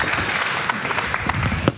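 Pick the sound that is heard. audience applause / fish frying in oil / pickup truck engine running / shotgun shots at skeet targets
audience applause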